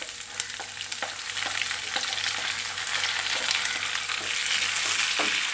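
Sliced onion sizzles in hot oil in a pan while cooking a tender jackfruit masala, a steady close frying hiss with scattered crackles and pops, no voices.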